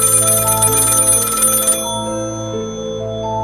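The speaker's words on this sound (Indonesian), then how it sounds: "Suara ponsel berdering." A mobile phone ringtone plays a steady electronic melody with sustained tonal notes, clear and up close, in a horror podcast setting. A bright upper layer drops away midway while the tune continues alone.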